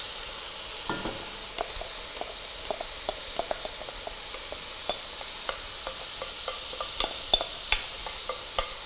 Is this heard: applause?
no